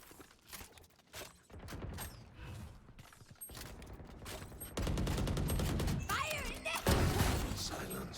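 Repeated shotgun blasts from a Valorant match, sharp bursts mixed with mechanical clicks and game effects, growing louder and denser toward the end, with commentators talking over the action.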